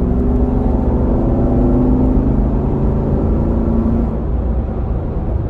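A C7 Corvette engine fitted with a performance air filter revs with a throaty, whirring roar that holds steady, then eases off near the end; loud and close with no voices.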